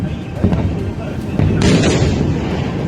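Rockets and missiles fired in a wartime strike between Iran and Israel, with a city such as Haifa under attack, give off a series of loud booms and sharp blasts over a constant rumble, ending in a sustained roar.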